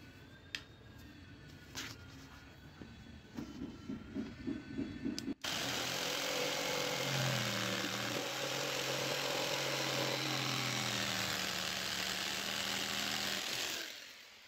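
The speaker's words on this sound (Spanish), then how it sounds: "Y ahora la vamos a quitar con la caladora." A few brief clicks and taps, then a jigsaw starts cutting wood and buzzes steadily for several seconds before cutting off, fairly close and loud.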